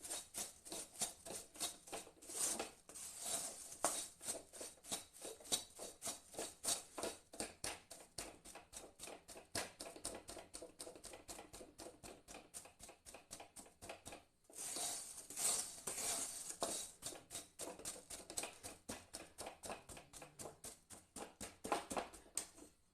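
A spoon scrapes and taps steadily against a pan while thickening sugar syrup for besan laddu is stirred continuously, quick repeated clicks and scrapes at close range with no talk.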